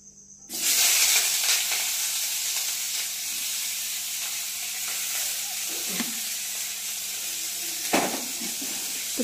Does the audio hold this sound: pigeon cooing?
no